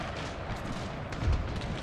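Continuous musket volleys crackle and rumble across a Total War battlefield during the Thirty Years' War, a dense, roaring wash of massed gunfire with one heavier thump near the end and no talking.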